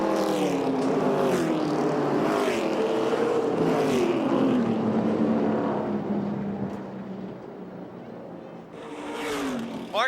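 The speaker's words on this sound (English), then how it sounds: "Coming out of turn 4 in car 1 will be Steve Black." Race cars roar out of turn 4 at the Motordrome Speedway during the Steel City 100, engines droning and shifting in pitch as they pass, loud for most of the stretch before easing slightly, with an announcer's voice faintly mixed in.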